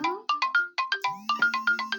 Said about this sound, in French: Oh, évidemment, le téléphone qui sonne.